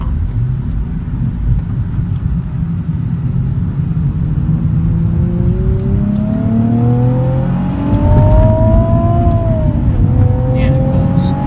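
A Nissan 370Z Nismo engine accelerates from inside the car, a loud rumbling drone rising steadily in pitch through the gears, with a brief dip at a shift before climbing again.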